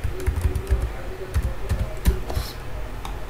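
Text is typed on a computer keyboard into an HTML input box, a steady run of fast, close key taps over a low background hum, with a voice faintly present.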